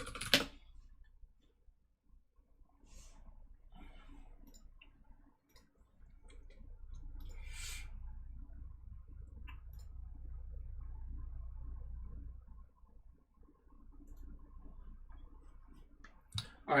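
Someone types on a computer keyboard at a desk with four monitors, giving faint, close, irregular key clicks over a low background hum.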